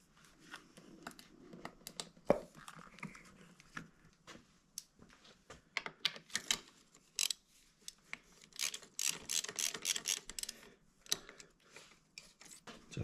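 A socket wrench working on the spark plug of a Honda CRF250R with a damaged head, giving quiet scattered metallic clicks and ratcheting taps, then a denser run of sharp clicks near the end.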